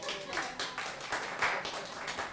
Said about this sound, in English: Give her a hand, a round of applause